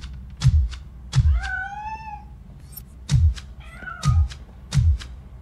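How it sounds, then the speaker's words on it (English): A cat meows repeatedly in the RoboCop: Rogue City video game, with several low thumping cries and a couple of longer rising, wavering calls, fairly close and loud with no talking. "That cat must be hiding inside."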